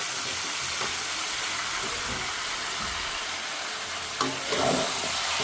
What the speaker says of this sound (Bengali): এখন মাংসটা আমি কষিয়ে নেব।